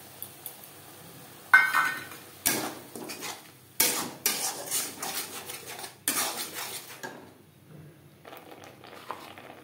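A utensil scrapes and clinks repeatedly in a pan while stirring ginger paste for an egg chilli dish, about six distinct close strokes in a steady rhythm, with no voice.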